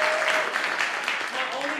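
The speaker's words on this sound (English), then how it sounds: "so not only did Huffman win as a team, clap it up one more time for Serenity." Audience clapping for a youth slam poetry team at a competition, a steady wash of applause with scattered cheers, moderately loud throughout.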